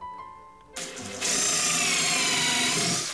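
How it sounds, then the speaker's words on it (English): A power drill starts up with its bit set in a hole to mark the bottom, spinning up to a loud, steady high-pitched whir that holds to the end. "So I'll kind of put my bit down in there and I'll start it up just to make a mark on the bottom."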